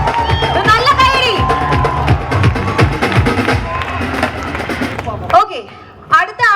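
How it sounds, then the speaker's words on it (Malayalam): Audience at a live Malayalam film interview event in Dubai erupts in loud, sustained applause mixed with cheering and whoops, a dense crowd roar that cuts off abruptly near the end, followed by a few brief voices. "നല്ല കൈയടി"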